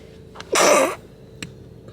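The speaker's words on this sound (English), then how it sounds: "Oh, I'm going to sneeze." One close, loud sneeze erupts suddenly in a quiet indoor space, followed by a short breath sound.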